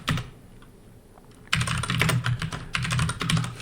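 Keys clatter on a computer keyboard, with one soft early tap, then a dense run of rapid, close typing in the second half.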